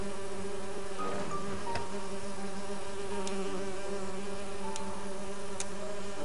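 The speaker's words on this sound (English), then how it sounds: "I need to subdue the bees first. They'll do me in for sure if I disrupt their artificial home." Bees swarm around an artificial hive in the video game And Then There Were None, making a constant droning buzz with wavering pitch that fills the scene, with no voices.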